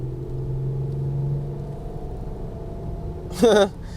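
A Toyota Camry Gracia wagon with a 4-speed transmission drives along, its engine a low, steady rumble inside the cabin, under a voice talking.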